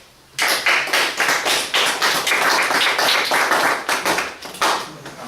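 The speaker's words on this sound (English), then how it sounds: "Warm round of applause." A warm round of applause for a speaker, bursting in after a quiet moment and carrying on as steady, close, fairly loud clapping from a small group, with no voices over it.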